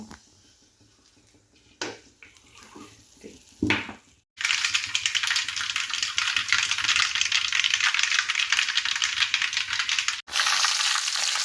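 A loud, steady sizzle of spices frying in hot coconut oil kicks in after a few quiet clinks and taps, crackling continuously with a brief break near the end.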